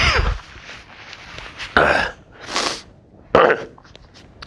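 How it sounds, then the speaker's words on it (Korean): Several harsh coughing bursts, close and loud, with a throat-clearing quality, spread irregularly across a few seconds. "죄송합니다. 기침이 나와가지고."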